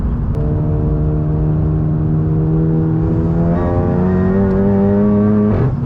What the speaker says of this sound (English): It just pulls all the way to redline the entire way through, just as consistent as could be.